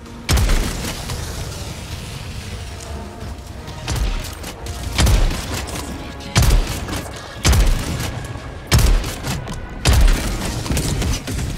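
A Slugger shotgun fires at enemies in Helldivers 2, sounding as about eight heavy booming blasts spaced roughly a second or two apart, each loud and punchy over a steady battle rumble.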